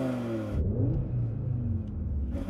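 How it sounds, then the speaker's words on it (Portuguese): An Audi four-cylinder engine revs smoothly and steadily, a low rumbling drone with rising and falling pitch, close by and without voices. "O Audi tem um som legal, mas ele é mais suave, você não acha?"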